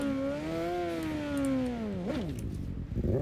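A motorcycle engine in Cyberpunk 2077's Night City hums loud and steady, its pitch easing down before a brief rev spike and a rumbling fade.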